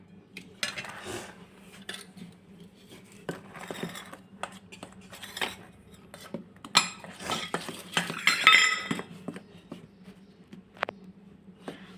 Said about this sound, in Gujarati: હવે આપણે બધું જ મિક્સ કરી દઈશું પહેલાં